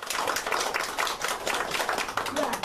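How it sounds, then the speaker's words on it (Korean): A church congregation at a Sunday service breaks into dense, sustained applause, a close, steady wash of many hands clapping together for the whole stretch. "다시 한번 하나님께 영광의 박수를 드립니다."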